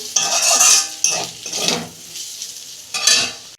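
Fried mixed vegetables seasoned with cumin powder scraped and tipped out of a metal pan, with a few loud bursts of scraping and clattering between short pauses, and no voices.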